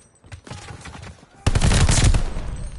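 Video game gunfire, rapid automatic bursts that build into a loud sustained volley, dense and close, with light talk faintly underneath at the start.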